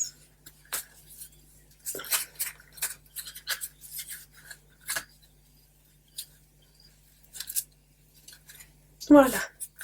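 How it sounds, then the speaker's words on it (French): Scissors snipping off leftover thread after a double knot on a handmade watercolour traveler's notebook, a short close crisp cut near the end, after quiet handling noises and light rustling. "je coupe le surplus de fil"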